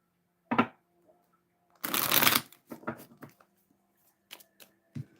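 Tarot cards being shuffled in a few quick riffling bursts, with softer taps and snaps between them, close up in a quiet room.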